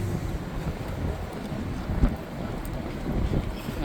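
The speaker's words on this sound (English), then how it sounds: "Man, this wind." Strong wind gusting outdoors during a 2015 Chevy Trax repair, a steady loud roar and buffeting against the microphone with no break.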